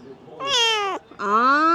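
Two drawn-out meows from a cat, close and clear, the second slightly lower and rising, with faint murmuring behind.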